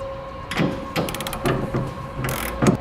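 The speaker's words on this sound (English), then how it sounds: "We're going to torque the 2 nuts that are going to our cross members" A ratcheting torque wrench clicks in quick repeated strokes, loud and close, as nuts are tightened on a Curt overbed folding ball gooseneck trailer hitch under a 2015 Chevrolet truck bed.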